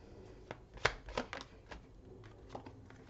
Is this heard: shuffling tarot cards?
yes